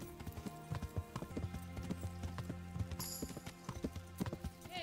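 Horse hooves clip-clopping steadily while riding in the medieval video game Kingdom Come: Deliverance, a brisk, even rhythm of close hoofbeats with faint tack noise and a short whinny-like cry near the end.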